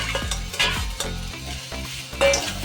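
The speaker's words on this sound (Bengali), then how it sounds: "সব একসঙ্গে ভেজে নেব" Crushed fish heads frying together in a pan, with steady sizzling and repeated scraping and stirring strokes of a spatula, close and fairly loud.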